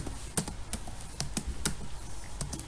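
Rapid, uneven key taps on a computer keyboard as code is typed, close and fairly quiet, a short run of clicks with no talking.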